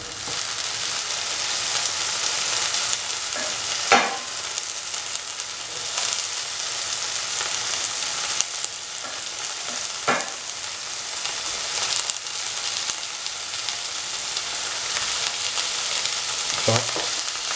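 Tomatoes frying in a hot pan for an Afghani-style eggs and potatoes breakfast, giving a steady close sizzle with occasional sharper crackles and stirring scrapes.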